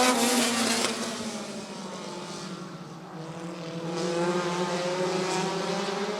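Race cars at Rockford Speedway accelerate together after the green flag in a Bandit Heat 3 race, a steady droning roar of several engines at moderate distance, swelling and fading slightly as the pack passes.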